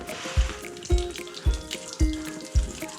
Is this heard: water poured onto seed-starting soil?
yes